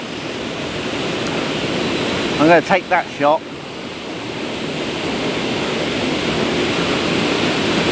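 Steady broadband rush of a waterfall fills the whole stretch as a loud, continuous wash, with someone briefly talking over it partway through.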